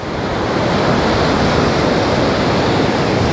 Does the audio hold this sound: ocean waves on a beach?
yes